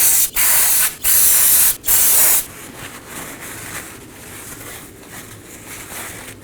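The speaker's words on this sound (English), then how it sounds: "Now I'm going to clean everything up with some brake cleaner and a clean rag." Brake cleaner sprays onto a car axle hub in three loud, close hissing bursts, followed by quieter wiping and handling sounds.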